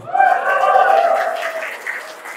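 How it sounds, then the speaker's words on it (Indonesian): An audience at a company seminar applauds, with clapping under a loud, sustained cheering voice that gradually fades. "Aplaus untuk kita semua."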